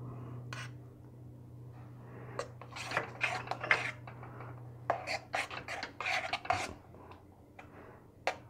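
A spoon scrapes and rubs through palak paneer gravy with hung curd and cream in a pan, producing irregular close-up bursts of stirring over a low steady hum.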